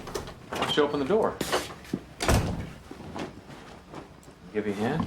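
A door is opened in a TV drama scene, its clunk and movement mixed under continuous talking voices.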